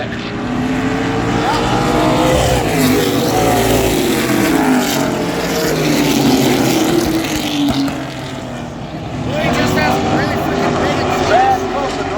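CRS Truck Series racing trucks roaring around Sandusky Speedway, a loud continuous engine drone that swells and dips as the pack passes, with a commentator talking over it throughout.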